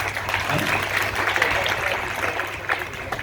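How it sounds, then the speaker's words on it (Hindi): A burst of audience clapping in a hall after a thank-you, fairly dense and steady for about three seconds with a low steady hum underneath and some voices mixed in. "जोरदार तालियां बजा दीजिए"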